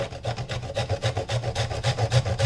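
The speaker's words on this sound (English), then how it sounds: "So I'm going to grate it." A hand grater rasping over a big piece of coconut in steady, rhythmic scraping strokes, close and loud, about five strokes a second with no talking.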